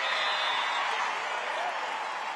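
A pro volleyball arena crowd cheers and applauds after a setter's kill, a dense continuous roar of claps and voices at steady loudness throughout.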